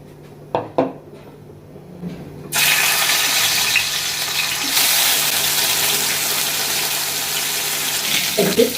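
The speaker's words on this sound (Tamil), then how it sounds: "அந்த அடுப்பில் மீனை பொறிச்சிக்கலாம் இந்த மீனை பொறிச்சிக்கலாம்" Fish frying in a pan on a stove: a few soft kitchen clatters, then a loud, steady sizzling hiss that sets in suddenly and keeps going close by without letup.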